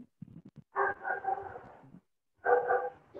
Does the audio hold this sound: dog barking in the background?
yes